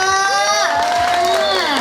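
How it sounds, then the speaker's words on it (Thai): A crowd at a durian-eating contest during a temple fair cheers and whoops loudly, with rising and falling shouts over faint clapping in a brief, close burst. "ขอเสียงปรบมือนะคะให้กับศิลปินดาราของเราเลยค่ะ"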